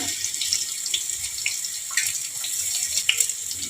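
Bitter gourd pieces frying in hot oil in a pan, a steady close sizzle with bright crackling hiss and occasional sharper pops throughout, no voices over it.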